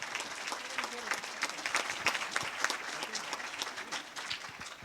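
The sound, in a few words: applause for the Colleen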